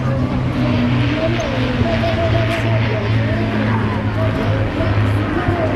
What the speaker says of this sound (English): The Lancaster very famous for the different bomb loads that it could carry